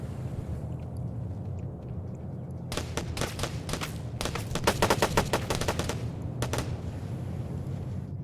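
Bursts of rapid automatic gunfire and single shots crack out during a military video game assault, several dense volleys over a steady low engine-like rumble, fairly close and sharp.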